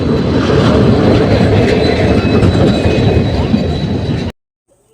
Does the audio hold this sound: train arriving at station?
yes